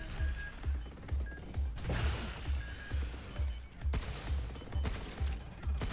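Rapid, repeated gunfire from the video game Pragmata, a steady stream of punchy low thuds and crashing bursts that pulse evenly throughout, loud and close with no talk over it.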